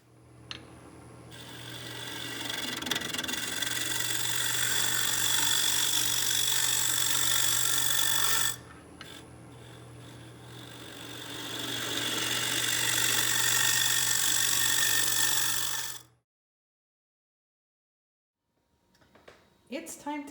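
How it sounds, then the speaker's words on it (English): A scraper smoothing the inside of a black cherry bowl spinning on a wood lathe makes a steady, loud whirring scrape for long stretches, breaking off briefly and then stopping near the end. "I'm going to continue and scrape the bottom and the sides to make sure that everything is smooth"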